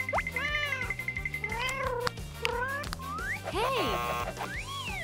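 Cartoon kitten meows ring out repeatedly in short rising and falling calls over a bouncy music track, fairly loud and close, with a few springy sound effects mixed in.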